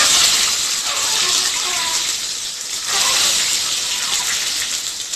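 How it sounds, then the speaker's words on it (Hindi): Shelled boiled eggs sizzle and spatter steadily in hot mustard oil in a kadai, a loud, continuous frying hiss that holds through the whole stretch with no talk over it. "अब हमें इनको इस तरह फ्राई कर लेना है"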